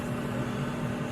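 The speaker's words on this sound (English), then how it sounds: "turn that humming sound you hear, that's my fan" Electric fan running indoors, giving a steady broadband whoosh with a faint constant hum under it, even and unchanging across a brief moment, with no voices.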